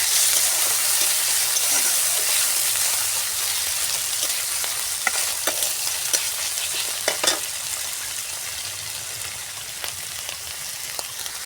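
Chopped garlic, ginger and green chilli sizzle and fry steadily in hot oil in a pan, a continuous loud crackling hiss with occasional sharper pops from stirring.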